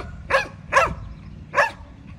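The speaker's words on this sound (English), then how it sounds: "So there he barks" A dog barks three times, sharp and close, with short gaps between barks over a quiet low hum.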